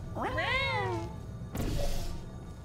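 A cat meows in a rising, drawn-out call during an on-screen intro in Portal 2, loud and close, followed by a second shorter, noisier meow with a soft thunk.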